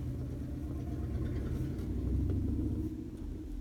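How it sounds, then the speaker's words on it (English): Motorcycle passing outside: a low, steady engine rumble holds across the whole stretch, swelling slightly toward the middle before easing off, muffled and faint, with no speech. "why is it that when somebody has a motorcycle, they feel like it needs to be the loudest thing that you can hear"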